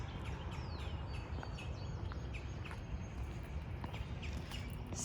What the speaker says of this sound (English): As we're walking, I want you to listen to the birds.